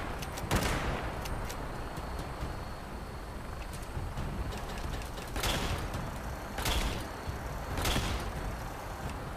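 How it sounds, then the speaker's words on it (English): Enemies firing at the player in Fallout 76, sharp distant shots at scattered moments over a low, quiet background hum. "they're shooting me once or twice"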